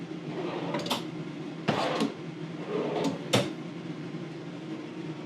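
Kitchen drawers in a 2026 Sabre 36DBB two-bedroom RV slide open and shut, giving several sharp knocks and rolling slides at close range over a low steady hum.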